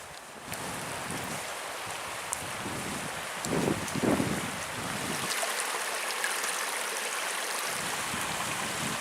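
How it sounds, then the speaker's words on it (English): A stream flowing down in a wooded river valley along the Manistee River Trail in Michigan, heard as steady broadband water rush from a distance with wind noise over the microphone and no talking. "Oh, I hear a stream down there."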